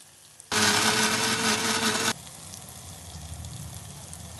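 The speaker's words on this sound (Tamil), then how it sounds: "மீடியம் ஃப்ளேம்லேயே வச்சு நம்ம வந்து ஃப்ரை பண்ணணும்" Onions frying in a pan over a medium flame, with a loud burst of blender-like whirring for about a second and a half before it drops back to a steady, quieter sizzle; no voices.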